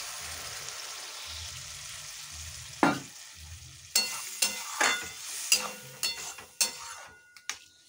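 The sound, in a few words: water added to frying food in a pan, sizzling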